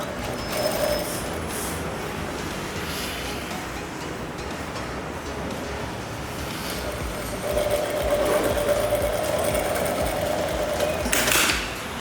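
A sewing machine top-stitches along a blouse neckline, running in a long steady whir that rises a little louder toward the end, with a brief clatter near the finish.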